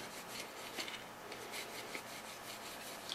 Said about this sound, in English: wipe this oil